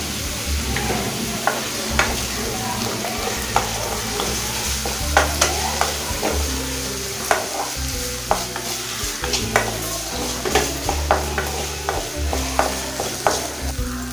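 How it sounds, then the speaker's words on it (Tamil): Onion and tomato sautéing in a pan for an okra side dish: a steady close sizzle with repeated scraping stir strokes and sharp utensil clicks throughout, over a low droning background. "வெங்காயம் தக்காளி வதங்குறப்பே நம்ம இதுக்கு தேவையான உப்பு சேர்த்துக்கலாம்"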